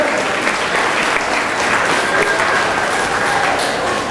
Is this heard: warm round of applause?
yes